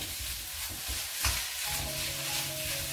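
Onion sauteing on low heat for chicken shawarma, a soft close sizzle with a few stirring scrapes over a short stretch, no voices.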